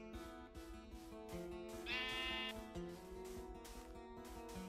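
A Minecraft sheep lets out a brief, wavering bleat mid-clip, faint against steady background game music with repeating tonal notes.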